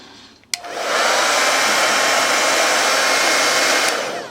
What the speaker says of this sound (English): it's going to probably take 10 minutes to actually heat this up. So 10 minutes of blow drying.